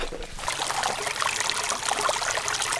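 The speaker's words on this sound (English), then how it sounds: "that there behind us is actually where the water's coming out of the ground" Hot spring water trickling and burbling out of the ground at Douglas Hot Springs, a close, continuous splashing flow with no talk over it.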